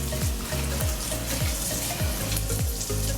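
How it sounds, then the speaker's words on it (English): Tap water running into a sink while pig's feet are rinsed for menudo, a loud continuous splashing rush with repeated rhythmic knocks and swooshes as the pieces are handled under the stream. "I'm gonna wash them, rinse them out."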